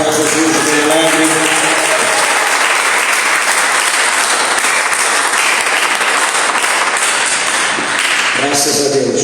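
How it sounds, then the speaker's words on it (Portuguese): A church congregation claps together during an evening worship service, a dense sustained round of applause that fills the room, with music or singing faintly beneath at the start and end. "Quem pode dar uma salva de palmas para Jesus bem alegre?"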